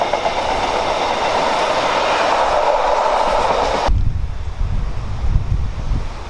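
A train rumbles past the railway junction at Leamington, loud and close, with steady wheel and wagon noise and wind buffeting. It cuts off abruptly partway through, leaving a lower rumble.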